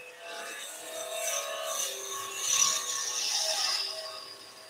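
Quarter inch bowl gouge cutting wood on a lathe while turning a table skittle, a soft continuous scraping and rasping whir that swells and eases with the cut, close and fairly quiet, no talking.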